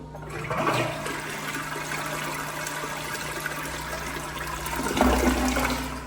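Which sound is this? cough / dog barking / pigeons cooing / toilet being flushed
toilet being flushed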